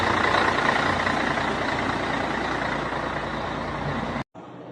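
A Brazilian truck with an LK V8 engine runs steadily nearby, a continuous broad rumbling drone at strong volume that holds for about four seconds before a sudden brief cut and a quieter resumption.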